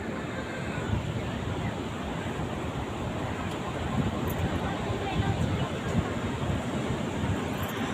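Sea waves wash steadily against the seashore beside a park in Kerala, a continuous broad roar of surf with some wind rumble, loud and close throughout.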